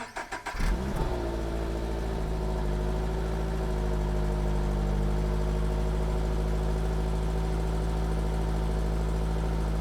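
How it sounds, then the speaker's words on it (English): A stock-exhaust Subaru BRZ/GR86 cold-starts with a short cranking burst and rev flare, then settles into a steady, droning idle close by. "Here's how the stock exhaust sounds on a cold start."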